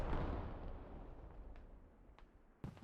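Artillery fire in a video game rumbles as a deep, fading boom from a distant, heavy gun. A sharper crack cuts in near the end.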